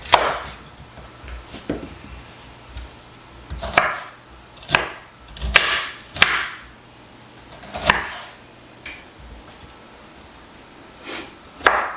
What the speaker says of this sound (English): I'm going to go ahead and chop up some broccoli.